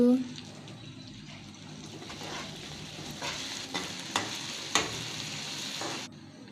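Ginger garlic paste frying and being stirred into a jackfruit curry, with a soft steady sizzle and a few spoon scrapes against the pan, fairly quiet and close.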